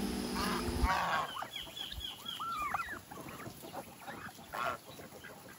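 Ducks on a farm being scattered feed near tethered chickens, with a burst of honking quacks and calls over rustling background noise, fairly faint and intermittent.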